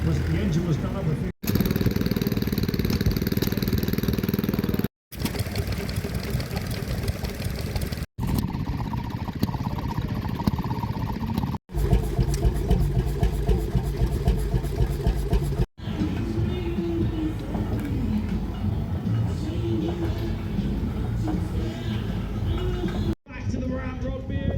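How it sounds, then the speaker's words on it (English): The engine of a P6 tractor runs steadily at a steam rally, a continuous mid-pitched rumble heard outdoors under ongoing talk, with several abrupt cuts between takes. "That's a P6 tractor that the engine was done up with."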